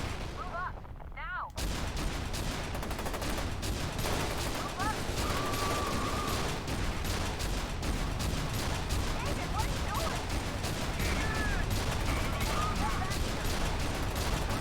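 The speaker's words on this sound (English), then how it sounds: "Who's shooting at me?" Heavy, continuous F.E.A.R. 2 firefight with constant rattling gunfire and explosive booms after a short quiet start, a voice speaking faintly beneath the din.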